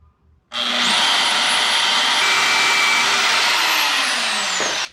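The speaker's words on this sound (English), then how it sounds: "All right, so we have our little bolt in here. We're just gonna cut it as short as I reasonably can" A short bolt for a truck bed spare tire mount for 35-inch tires is cut with a loud, steady power tool whine that starts abruptly, holds evenly for about four seconds, then stops.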